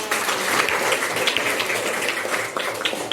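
Children in a fifth-grade elementary classroom clap together in a busy, fairly close patter that runs steadily throughout.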